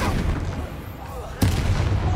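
A Confringo spell blast in the video game Hogwarts Legacy lands as a single sharp boom partway through, cutting in over dense, rumbling combat noise that carries on afterward.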